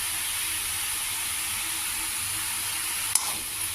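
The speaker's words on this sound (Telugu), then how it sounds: "కొద్దిగా స్టవ్ మీద ఇవంతా అన్నీ కలిసేలాగా బాగా మిక్స్ చేసుకోవాలి." Banana stem curry, seasoned with salt and turmeric, is stirred in a pan on the stove under a steady, loud sizzle and hiss, with one brief utensil clank near the end.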